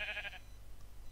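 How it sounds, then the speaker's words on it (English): A Minecraft sheep gives one short bleat near the start, alone against a low steady hum, then fades to quiet. "Yeah, a sheep."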